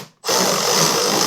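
A 9mm deep well socket on a power driver spins off a lock nut from a Spartan mower control panel, starting after a brief pause and running as a steady, loud, close whir.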